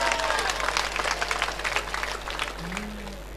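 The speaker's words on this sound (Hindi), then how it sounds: "जरा माइकल जो लोग सुनना चाहते हैं वो एक बार ताली बजाएं।" An audience at an all-India Hindi poetry gathering in Depalpur claps, a moderate burst of applause that fades over a few seconds under a low steady hum.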